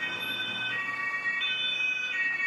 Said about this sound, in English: And the German siren.